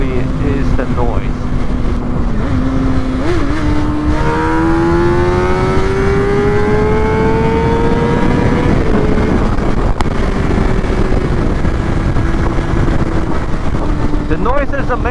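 A Suzuki GSX-R600 motorcycle engine screams loudly and continuously, its pitch sweeping up and down through revs, with heavy wind buffeting on the microphone.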